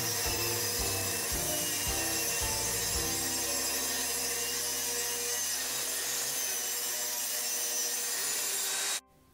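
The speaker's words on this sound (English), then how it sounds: "let's cut one of the beveled edges off of a 2x6." A saw cuts a beveled edge off a 2x6 wooden board, with a few rhythmic strokes before a steady cutting whine that runs on and stops abruptly at the end.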